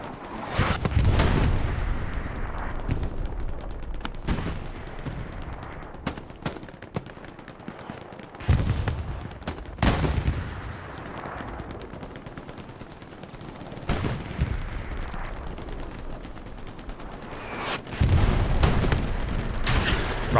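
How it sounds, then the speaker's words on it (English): Artillery shelling and gunfire in the WWII shooter Hell Let Loose, with heavy booming impacts landing every few seconds amid steady rattling small-arms and machine-gun fire, loud and close with no talking. "the infantry can't get to him because the arty's just lambasting him down with round after round"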